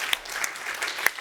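An audience applauds in a conference hall at a session on water, health and climate, with a brief, dense patter of clapping heard close and steady and no speech over it.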